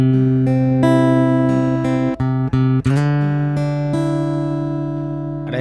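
Acoustic guitar played through a Roland Mobile AC amplifier, strummed chords and picked notes ringing bright and sustained, with a few brief muted breaks in the middle, close and loud with no voice.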